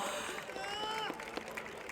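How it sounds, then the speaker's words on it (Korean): Applause from a crowd at a Korean baseball player interview, a dense wash of clapping that holds steady throughout, with voices talking over it. "박수 한번 보내주십시오"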